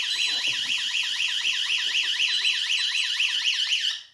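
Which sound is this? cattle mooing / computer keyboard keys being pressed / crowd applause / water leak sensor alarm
water leak sensor alarm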